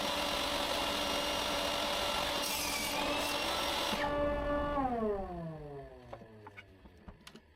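A saw with a crosscut sled and a stop block set at 20 centimetres cuts wood pieces. A faint steady whine and grinding cut is followed by the blade winding down, with its pitch falling away to a few soft clicks.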